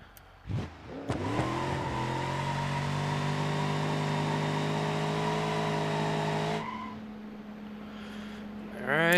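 A 1968 Dodge Charger with about 500 horsepower, driven in the BeamNG.drive game, revs and accelerates hard with a steady, loud engine drone that rises in pitch, then drops off sharply near the end before revving again.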